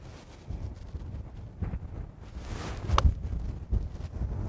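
Wind gusting across an open golf course at Hopeman Golf Club, a low rumbling buffet on the microphone that rises and falls, with a faint brief knock partway through.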